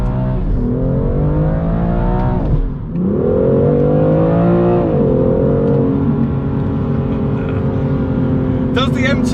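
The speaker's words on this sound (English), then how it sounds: "The M55 engine sounds great. You get the enhanced cabin noise" BMW M2 CS with M55 engine revving while driving, heard from the cabin: a loud, steady engine drone that rises and falls in pitch through gear changes, with a short dip near three seconds and speech over it.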